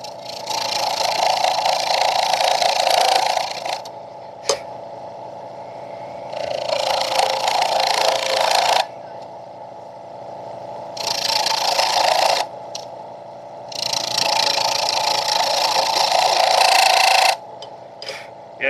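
A wood lathe fitted with a Vicmarc #3 eccentric Escoulen chuck chatters as too big a cut is taken on thin wood far from the headstock, giving loud rough bursts of cutting noise that alternate with a steady motor hum.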